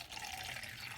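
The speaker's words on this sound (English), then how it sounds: "we're measuring out the water with a measuring cup, and we'll pour it in" Water poured from a measuring cup into a container for a cold water experiment, a brief steady splashing trickle, faint and close, heard alone.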